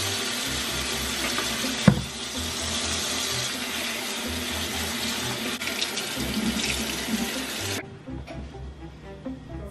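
Water runs steadily from a tap while braided hair is washed at a sink, a continuous close splashing hiss that stops abruptly near the end, leaving quieter room sound.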